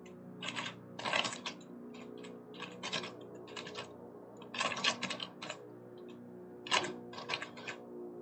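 Bursts of rapid typing on a computer keyboard in a quiet room, clustered clacks coming in short runs with pauses between, close and fairly soft, with no talking over them.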